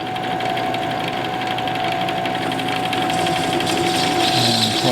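Metal lathe parting off a metal throttle cable swivel, a steady whirring machine hum with a thin tonal whine and faint rhythmic chatter, continuous and fairly close.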